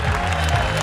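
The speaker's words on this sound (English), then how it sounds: "The fans are on their feet, clapping their hands." Beach handball fans at a European championship match between Italy and Denmark applaud steadily, a dense, continuous patter of clapping from a crowd that fills the whole moment without a break.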